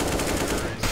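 Gunfire in the video game CS:GO, a rapid, loud burst of shots packed into under a second.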